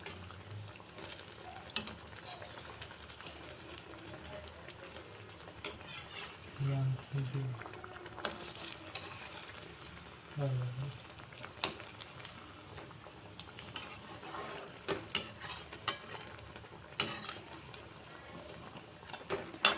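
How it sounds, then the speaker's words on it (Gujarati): Sabudana vada fry in oil over a medium gas flame, a soft, continuous bubbling sizzle scattered with small crackles and ticks, while a voice speaks at times. "એક બાજુ ગોલ્ડન બ્રાઉન થાય ત્યાં સુધી એને મીડિયમ ગેસ ઉપર તળી લઈશ"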